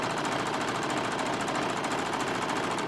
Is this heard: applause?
no